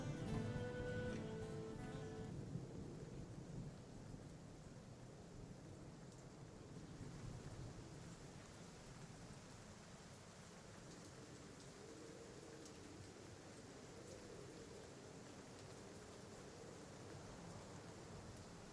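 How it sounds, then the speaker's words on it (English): Steady rain hissing over a low, rolling rumble of distant thunder serves as a tabletop role-playing game storm effect, continuous and moderately loud, with a heavier burst of rain and thunder at the start before settling into an even downpour. "As rain starts to make its way."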